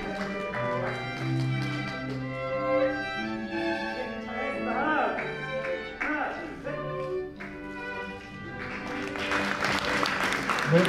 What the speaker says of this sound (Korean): 자, 큰 박수 부탁드리겠습니다